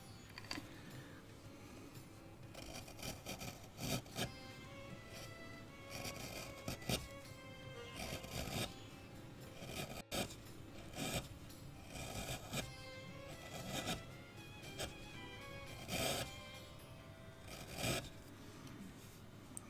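A gouge cuts into a wooden owl carving that is not firmly clamped, giving repeated short scraping, rasping strokes in an uneven rhythm, close and fairly loud.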